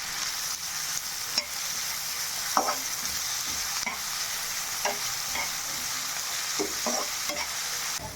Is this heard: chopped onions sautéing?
yes